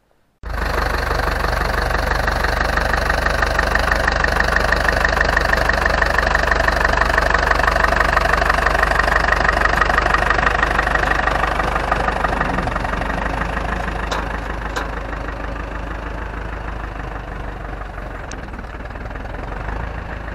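An Ursus C-360 tractor diesel engine fires up and settles into a steady, loud, knocking idle that runs throughout, close to the listener with no talk.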